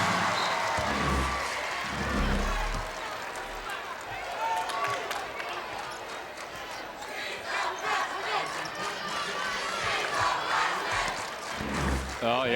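Big crowd at the 2018 Minnesota Class AAA girls basketball final, Robbinsdale Cooper against Northfield, roaring steadily throughout an indoor arena, with commentators talking over it.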